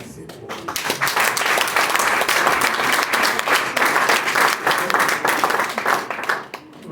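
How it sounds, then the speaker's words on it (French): Loud, sustained applause from a crowd at a Forever Living Togo gathering, rapid dense clapping swelling then tapering off at the close. "Applaudissez pour eux"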